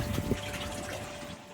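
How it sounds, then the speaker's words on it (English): A solar-powered air pump runs in an outdoor aquaponics system, giving a steady close rush of bubbling water over a faint constant hum, continuous throughout. "I have an air pump right here that is solar powered."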